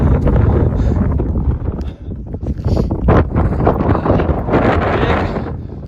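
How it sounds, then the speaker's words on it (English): Strong gusting wind on the 5,500-foot summit of Big Bald on the Appalachian Trail buffets and roars across the microphone, loud and continuous with rising and falling blasts. "It's windy up here."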